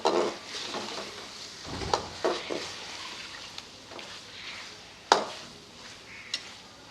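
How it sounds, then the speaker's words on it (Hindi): Chicken pieces browning in masala in a pan, a faint low sizzle under occasional sharp spatula scrapes and clinks against the pan, sparse and fairly quiet. "पाँच 6 मिनट के लिए इसे इस मसाले में भून लेंगे।"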